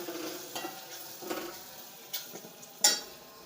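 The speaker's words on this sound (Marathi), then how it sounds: "चांगलं असं मिक्स करून घ्यायचं बरं का." Turmeric and chili powder are being mixed in a cooking pan for a village-style drumstick curry. Soft sizzling runs under scraping stirs, with a few sharper utensil clinks near the end and no talking.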